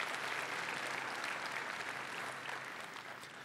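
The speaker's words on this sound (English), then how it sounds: "A round of applause for all of them, please." Conference audience at a tech summit keynote in Barcelona applauds the sponsors, a steady wash of many hands clapping at moderate distance that slowly thins out toward the end.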